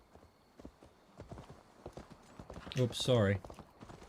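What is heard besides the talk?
horse hooves clip-clopping in Assassin's Creed Valhalla video game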